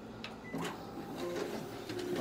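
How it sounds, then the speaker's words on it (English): A Konica Minolta Bizhub C364e copier runs a double-sided job through its document feeder, giving a steady mechanical whir with rolling feed noise and soft clicks, and no voices. "test out the document feeder as well as the duplexing feature on this machine"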